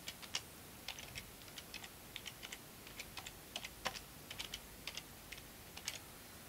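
Quiet typing on a computer keyboard while entering text into a file: a quick, uneven run of light key clicks heard up close, with no voices.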